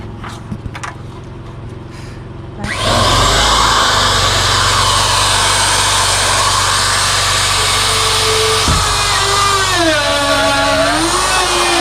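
A power tool with a guide wheel spins up abruptly and runs loud and close in a steady high whine, its pitch dipping and rising as it trims along a 2x4 board for an outdoor porch build.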